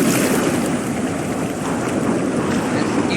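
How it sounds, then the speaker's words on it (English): Loud ocean waves in No Man's Sky, a continuous, rushing surf roar with a windy hiss, close and steady throughout without any talking. "this ocean is very loud."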